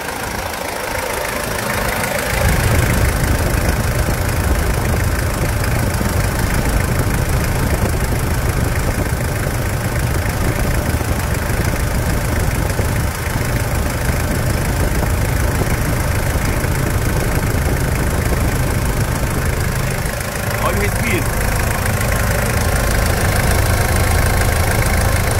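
A healthy diesel engine idling with its oil filler cap removed, a loud steady low chugging and knocking rumble that holds even throughout, with no voices.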